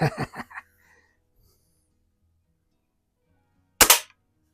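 A single sharp shot from a Markham King model 1892 BB gun cracks out near the end, after a brief burst of quiet talk and a long silence.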